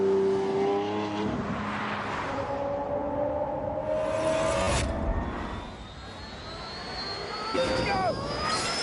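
A hybrid supercar engine driving, a loud sustained roar with rising whines and shifts in pitch, close and continuous throughout with a brief dip before building again.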